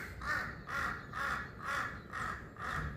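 Six harsh, evenly spaced caws from a large crow-like bird perched nearby in the Spiti mountains, each call loud and clear against a quiet backdrop.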